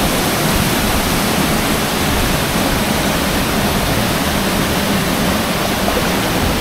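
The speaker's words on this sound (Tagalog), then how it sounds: "Sobrang lakas ng impact ng tubig na nanggagaling sa tuktok ng bundok." Churning water pours down a waterfall from a mountaintop into a deep, slippery lagoon in a loud, unbroken roar that holds steady throughout, with no voices.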